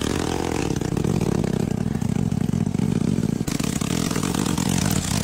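A motorbike engine labours continuously up a steep hill road, its loud, steady drone and clatter close by with slight revving throughout and no talk.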